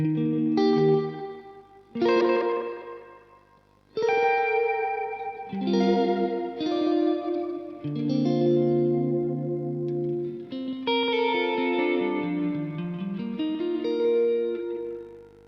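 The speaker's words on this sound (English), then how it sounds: "Kind of got a bit of a slapbacky thing." Electric guitar chords and notes played through a Keeley Halo delay pedal's slapback setting, each attack followed by a quick repeat, with chorus-like shimmer throughout.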